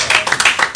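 A church congregation claps during a service, a few loud, close, uneven bursts of hand claps in quick succession over a short stretch.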